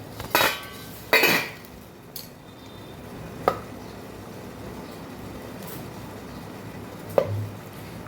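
An idli steamer is opened with a couple of sharp metallic clanks of lid and pot, followed by a few lighter clinks of a knife testing moong dal idli, spaced out over a quiet kitchen background.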